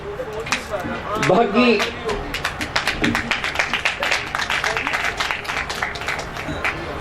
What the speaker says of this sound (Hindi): अपने लिए तालियां बजा लें